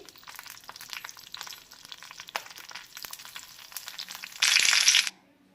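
Green chillies, garlic and cumin frying in hot oil, a close crackling sizzle with stirring scrapes that swells into a loud hiss near the end, then cuts off abruptly.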